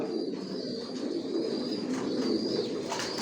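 Racing pigeons coo softly and continuously inside a loft, a low murmuring bird chorus with faint chirps and a steady background hum.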